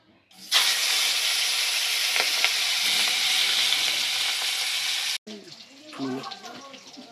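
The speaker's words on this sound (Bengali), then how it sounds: "চলুন আমরা মাথাটা ভেজে নিই।" Rohu fish head dropped into hot oil, bursting into a loud, close, continuous sizzle for several seconds, then cutting to quieter crackling frying with soft clatter.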